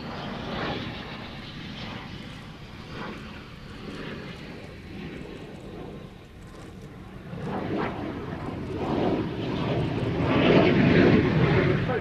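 A fixed-wing aircraft flies a slow-speed, high angle of attack pass, its engine droning steadily at a distance before swelling louder with bursts of power near the end.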